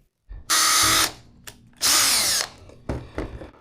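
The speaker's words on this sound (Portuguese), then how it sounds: "Então vamos fazer o furo-guia agora." A power drill bores a pilot hole in PVC pipe, for a fishing rod holder: two loud, close whirring runs of about half a second each, followed by a few shorter, weaker bursts.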